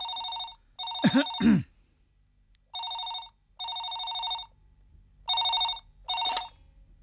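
A telephone rings in repeated electronic bursts, six short rings with brief pauses between them, loud and close, with no one talking.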